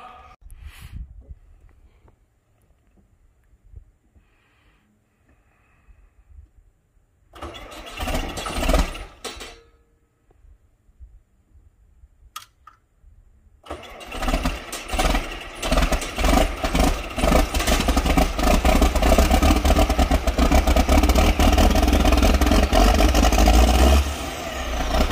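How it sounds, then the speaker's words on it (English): A restored John Deere 4440 tractor diesel engine cranks in short bursts with pauses, then catches and runs at a loud, steady, rumbling idle close by through the final half. "Watch, enjoy, look at the shiny green tractor."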